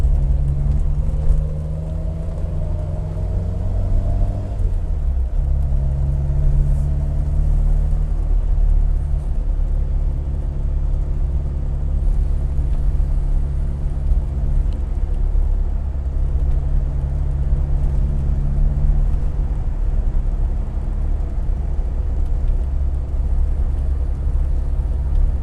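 A Triumph Herald 13/60 convertible driving on the road to the town of Hingham, its engine a steady loud drone under constant wind and road rumble, the pitch shifting once early on as it changes gear.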